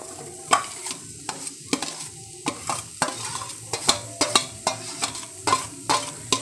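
A spatula stirs fried egg and vegetables in a hot pan, giving a steady run of scraping knocks and sizzles at an even rhythm, close up with no voices.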